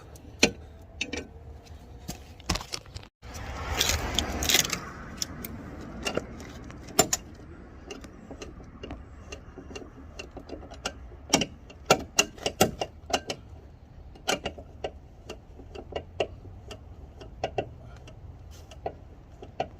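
A factory lug wrench turns the scissor jack under a Kia Seltos, giving sharp metallic clicks and ticks at an uneven pace, with a brief louder scraping burst early on, all close and quiet.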